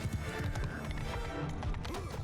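Cavalry horses gallop in Mount & Blade II: Bannerlord with dense, rapid, overlapping hoofbeats and a horse's whinny, set within a loud battle din.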